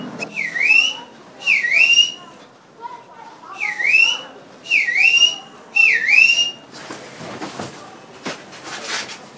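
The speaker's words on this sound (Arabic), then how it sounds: "مين الفند اللي بيصفر لها ده؟" A person whistles a short two-note rising and falling call, repeated five times in a steady rhythm, loud and close, before clattering household noise takes over.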